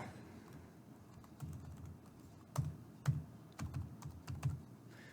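Number keys tapped on a computer keyboard while a value is entered into a spreadsheet column width box: soft, close clicks in small irregular bursts over a low room hum, no voices.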